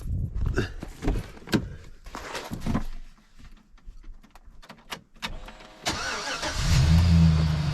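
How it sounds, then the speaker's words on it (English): On a snowy day a car is cranked, with near clicks and thumps before the engine catches and settles into a loud, steady low idle for the final seconds. "We'll start up the vehicle."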